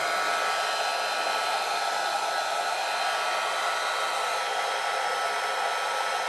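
A hair dryer blows continuously to dry a painted craft piece, a loud, steady hiss with an even whir that holds without a break, no voices over it.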